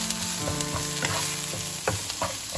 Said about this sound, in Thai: เราก็เอาน้ำพริกแกงแดงลงนะคะทีนี้เราก็จะ ให้มันได้คั่วให้น้ำพริกแกงแดงได้คั่วหอมๆสักหน่อย